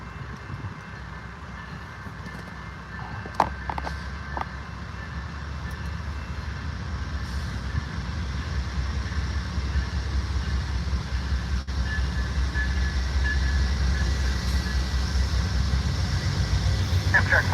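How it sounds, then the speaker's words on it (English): An Amtrak passenger train departs Ottumwa at Clay Street, a steady low rumble that swells gradually as it approaches, broad and fairly loud, with a few faint clanks near the start. "here comes Amtrak departing Ottumwa here at Clay Street."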